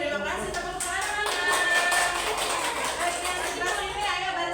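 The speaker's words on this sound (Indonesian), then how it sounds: "terima kasih tepuk tangan" Classroom clapping from a group of schoolchildren during a micro-teaching lesson on plant parts, a rhythmic run of quick hand claps in unison at moderate distance, with voices mixed underneath.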